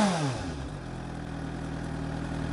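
A Suzuki GSR 600 motorcycle engine drops from a brief rev into a steady, deep, bassy idle, close and continuous with no voices.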